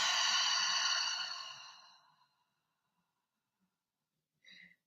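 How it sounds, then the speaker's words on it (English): A long, breathy exhale through the mouth during a guided meditation, loud at first and trailing off over about two seconds into near silence, followed by a brief soft sound near the end. "Exhale out through the mouth."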